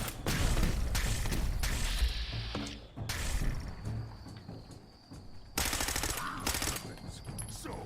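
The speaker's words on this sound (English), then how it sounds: "I do like how the gamma rifles look with their shots like this" Gamma rifle shots in Fallout 4, firing in loud bursts of crackling energy blasts with thumping impacts, layered over game music and effects.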